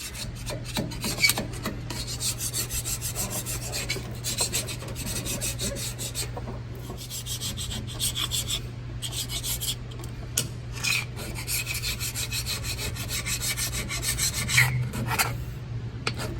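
A Matco scraper rasps and scrubs at old silicone sealant on the rear end of a Ford F-150, a steady close scraping texture with repeated strokes and a constant low hum underneath.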